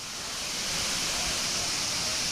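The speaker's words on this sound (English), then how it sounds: "It's like so many giant waterfalls." Giant waterfalls at Volcano Bay water park roar in a dense, loud, unbroken wash of rushing water, with no pauses or distinct events.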